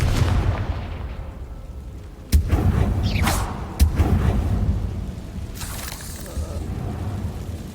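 A fiery blast-spell explosion in the Hogwarts Legacy video game: a sharp boom cuts through a dense, rumbling battle mix, followed by a second, smaller crack and ongoing game noise.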